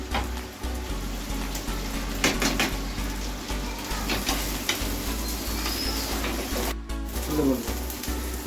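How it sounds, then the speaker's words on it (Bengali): Chopped onion, ginger and garlic frying in a pan, a steady close sizzle with occasional spatula scrapes and clinks over a low background hum. "সেই পেঁয়াজটা আর আদা কুচি আর হচ্ছে রসুন, এইটাকে ভালো করে আগে ভেজে নিতে হবে। এটা আমি ভালো করে ভেজে নিচ্ছি।"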